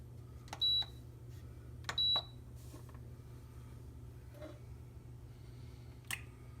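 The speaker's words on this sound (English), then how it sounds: "Press the saute button and then the start cancel button." Buttons on a Breville risotto maker are pressed, giving two short, clear electronic beeps a second or so apart, with faint clicks and kitchen room tone between them.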